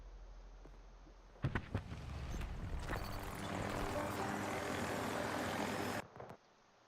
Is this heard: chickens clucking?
no